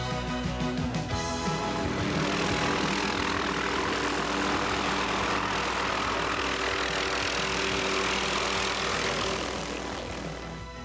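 A float plane's propeller engine droning steadily and loudly for the whole stretch, a continuous close roar that eases slightly toward the end, with no talking, on a trip toward Misty Fjords near Ketchikan, Alaska.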